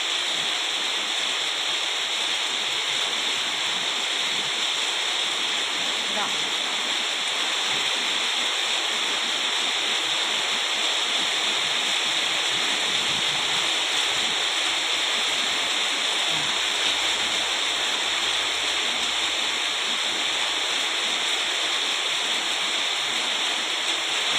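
Heavy rain and wind in a storm with rushing, flowing water: a dense, loud, unbroken roar that holds steady throughout, with no talking.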